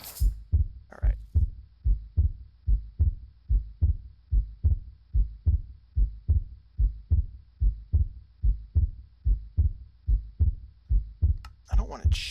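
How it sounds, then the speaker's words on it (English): Steady Minecraft heartbeat sound effect: a regular, close, thumping double pulse repeating about twenty times, with a brief spoken word near the start and a voice returning at the very end. "Try to ignore the heartbeats, even though they're irritating."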